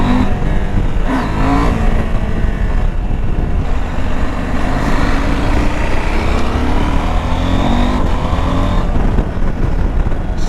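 A 2021 KTM 890 Adventure motorcycle engine runs steadily and loudly up close, its throttle response dropping and stumbling in uneven bunny-hop surges rather than rising cleanly, with heavy wind rumble throughout.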